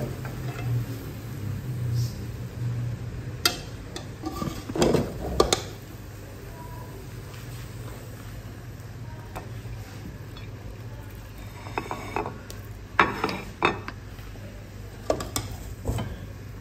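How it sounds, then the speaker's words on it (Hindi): Hyderabadi mutton biryani is served from the pot with scattered metallic clinks and scrapes of utensils, heard as irregular bursts over a low, steady background hum. "अच्छी तरह मिक्स करने के बाद अब हम इसको डिश आउट करते हैं।"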